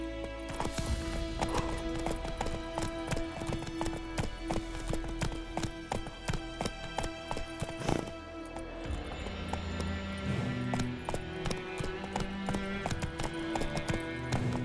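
Hooves of Roach, Geralt's horse in the game Witcher 3, beat in a steady galloping rhythm, close and continuous, with creaking tack and a brief whinny blended in.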